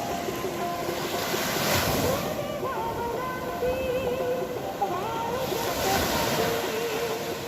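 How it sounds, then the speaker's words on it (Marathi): Sea waves surge and break on a quiet beach at Tambaldeg near Mithbav, rolling in and washing back in loud, continuous swells mixed with wind noise on the microphone. "लाटा मस्त धडकत आहेत किनाऱ्याला येत आहेत पुन्हा मागे वळत आहेत"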